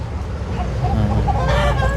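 Chickens cluck repeatedly near a rural Thai home, a rooster-like call rising among them, over a steady low background rumble.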